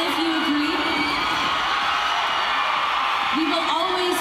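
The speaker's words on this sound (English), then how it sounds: "Yell if you agree." A large crowd of fans at a fan meeting in Manila yells, whoops and cheers continuously, loud and sustained throughout, with voices over the din.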